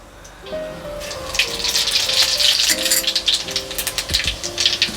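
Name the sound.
whole spices sizzling in hot oil for tempering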